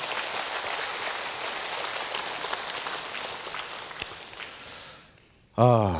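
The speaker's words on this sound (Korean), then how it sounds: "제 말에 동의하시면 박수 한번 주세요" Lecture audience at a KBS public academy talk applauds in a steady, dense wash of clapping that fades out, followed by a brief burst of other sound at the end.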